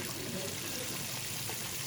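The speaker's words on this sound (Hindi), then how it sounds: "बस इसमें ये 2 गिलास ग्रेवी के लिए पानी डालेंगे" Water pouring from a glass into a large kadhai to make gravy, a soft steady splashing trickle, faint and continuous throughout.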